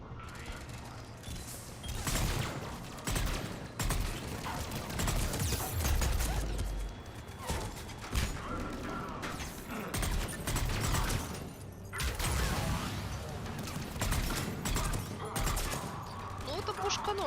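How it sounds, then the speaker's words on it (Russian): Dense bursts of gunfire in the video game Mass Effect 3 crackle almost nonstop, loud and close, mixed with crashes and mechanical clatter. "Ну, это пушка норм так выносит"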